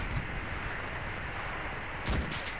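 Gunfire in the World War II shooter Enlisted, a steady low battle rumble with a sharper burst of shots near the end, no talking.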